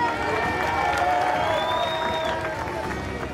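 A crowd at a Rayon Sports football club visit to a school claps and cheers for the goalkeeper coach, a dense wash of applause with voices and whoops mixed in throughout.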